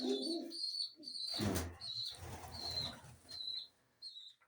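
Pigeons coo repeatedly during a morning feeding in a winter loft, with a burst of wing flapping partway through and soft chirps in between, fairly close and moderately quiet.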